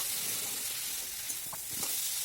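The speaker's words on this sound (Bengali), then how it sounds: "এবার আলুগুলো দিয়েও বেশ কিছুক্ষণ কষিয়ে নেব।" Spiced potatoes frying in a pan for a Bengali mourala fish curry, with a steady soft sizzle and a couple of brief scraping stirs toward the end.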